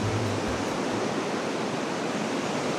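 Strong ocean waves roll onto a sandy beach on an overcast, rainy day, a dense, steady roar of surf and wind-driven spray that stays loud and continuous throughout, with no voices.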